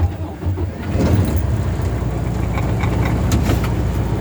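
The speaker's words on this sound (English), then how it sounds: "So I'm gonna start the truck." A Class A semi truck's engine starts from inside the cab and settles into a steady low diesel idle rumble, loud and close, with faint clicks and rattles over it.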